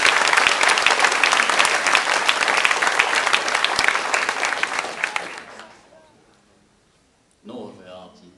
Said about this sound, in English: a warm applause, please, for Bus and the slightly odd hat